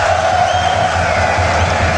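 A packed arena crowd roars and cheers at the Blast.tv Paris Major CS:GO final, Vitality versus GamerLegion, with a dense, sustained wall of noise throughout.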